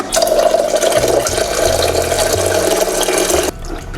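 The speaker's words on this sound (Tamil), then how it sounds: "இப்போ இன்னும் ஒரு 2 டம்ளர் ப்ளைன் வாட்டர் ஊற்றிடலாம்." Plain water pours steadily into a cooking pot for one-pot rasam rice, a continuous splashing stream with a low mechanical hum under it that cuts off abruptly near the end.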